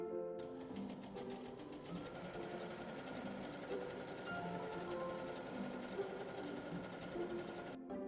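A sewing machine stitches a wide, long zigzag utility stitch, running steadily and close for nearly the whole stretch with a busy, even mechanical rattle, starting and stopping abruptly, with no talk.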